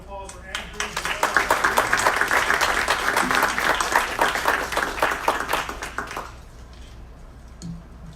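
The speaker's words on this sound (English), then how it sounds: "Big round of applause for Andrew." An audience claps for a presenter at a city council meeting, a dense round of applause that builds, holds for several seconds, then tapers off into quiet room noise.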